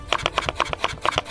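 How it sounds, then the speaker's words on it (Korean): Knife slicing peeled potatoes into thick sticks on a board, a quick regular series of about ten crisp chops close by, alone without talk. "감자 껍질을 벗기고 썰어주세요."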